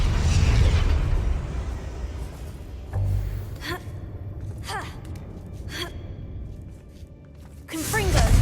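The Confringo blasting spell bursts in the video game Hogwarts Legacy, with a loud blast at the start and another at the end, and short sharp pops and a faint gasping voice in between.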